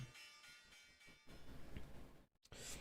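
A market-open bell from live stock-trading software rings out as a sustained, tonal chime that carries for a couple of seconds, then briefly drops away before sounding again near the end.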